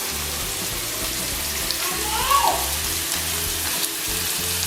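Hot cooking oil sizzles steadily in a pan with a faint scrape of stirring partway through, a continuous close hiss with a low hum underneath and no talking.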